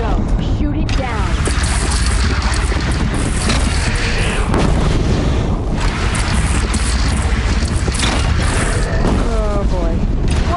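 A bridge blows apart in the video game Horizon Zero Dawn, loud rumbling booms and crashing debris filling the scene continuously, with voices speaking over the din.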